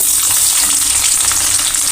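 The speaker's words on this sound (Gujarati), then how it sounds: "રાઈ ફૂટી જાય એટલે લસણના ટુકડા કરીને ઉમેરવાના છે" Garlic pieces sizzle loudly in hot oil just after mustard seeds have popped, a dense, constant crackling fry close up with no talking.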